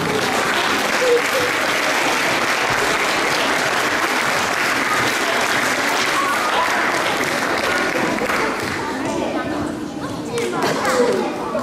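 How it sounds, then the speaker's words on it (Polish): An audience at a school awards ceremony gives sustained, dense applause that stays loud throughout, with some crowd voices mixed in. "Duże brawa"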